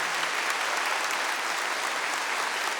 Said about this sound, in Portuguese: a quem eu gostaria que você aplaudisse agora, o nosso fundador